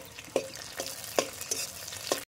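Green chillies drop into a pot of simmering potato gravy for Bengali alu dum, with a few sharp clinks and scrapes of stirring over a soft, steady sizzle, close and moderately quiet.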